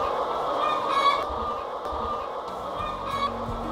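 Crowd of cage-free chickens in a crowded indoor barn without daylight, a dense continuous clucking and squawking din filling the space, steady and fairly loud with no talk.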